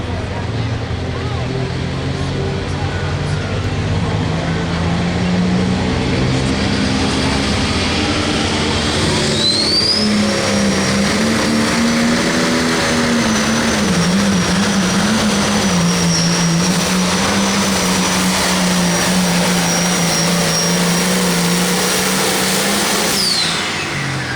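An International 58 tractor named Scooting Along roars continuously at a 9,500 lb limited pro tractor pull in Monticello, Iowa, a loud sustained engine drone that shifts in pitch as it strains down the track, with an announcer's voice over it.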